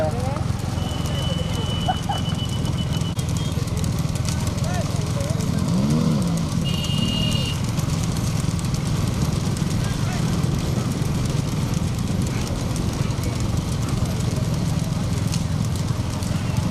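Racing bulls pull carts at a bullock-cart race, a steady clatter of hooves and wheels running throughout under constant loud shouting and commentary.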